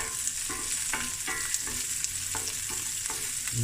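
Sliced shallots sizzle in a hot pan with a bright, steady frying hiss, punctuated by a regular series of soft stirring scrapes roughly every half second, close and alone without talk.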